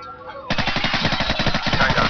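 Automatic gunfire from Call of Duty 4 erupts halfway in as a loud, rapid burst of shots that continues to the end.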